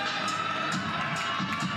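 A college softball crowd at an Oklahoma vs South Carolina game keeps up a steady, distant cheer and murmur across the stadium, with a few fainter taps and claps rising through it.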